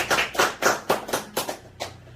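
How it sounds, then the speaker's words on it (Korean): A small audience at a health food lecture gives a short round of applause, just a few distinct, close hand claps in a loose rhythm that fade after about two seconds. "감사의 박수를 보내주십시오"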